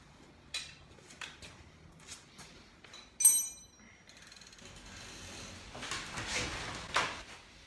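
A left bicycle pedal is threaded by hand into the crank arm, producing a series of close mechanical clicks and ratcheting ticks, then a louder metallic clack and softer rubbing turns.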